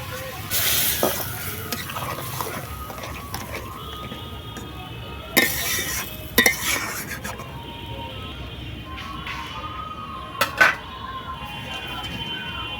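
Water poured into a hot, sizzling pan of mango chutney while stirring gives a steady frying hiss with a few sharp bursts, close by, under occasional talk.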